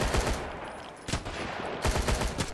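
Bursts of AK rifle fire in the survival game Sunkenland, rapid sharp shots in two volleys separated by a short lull, moderately loud and close.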